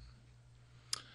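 A phone pushed onto a table in front of a person gives a single short, close scrape or knock near the end, over a steady low hum.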